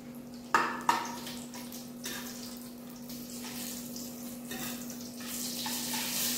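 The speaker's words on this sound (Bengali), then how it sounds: "তেল গরম হয়ে গেছে, দিয়ে দেবো ফোড়নে 5 ফোড়ন আর একটা শুকনো লঙ্কা" Five-spice seeds and a dry red chilli hitting hot oil: two sharp crackling bursts, then a steady soft sizzle with a low constant hum underneath, growing slightly louder toward the end.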